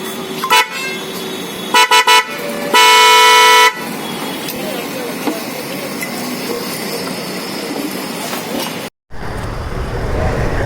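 A new horn fitted to a Bajaj Pulsar NS200 motorcycle sounds a few short toots followed by a longer, loud blast, over background traffic noise.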